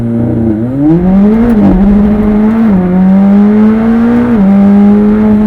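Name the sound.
McLaren 765LT launching at full throttle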